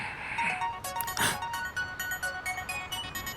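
A mobile phone ringtone plays as a melodic series of electronic tones, repeating steadily over a quiet room background with no talk.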